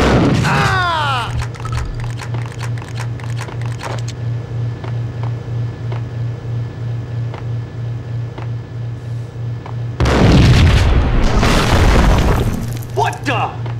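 A loud explosion erupts amid Max Payne PS2 game sound effects and a steady pulsing hum, followed by startled voices shouting.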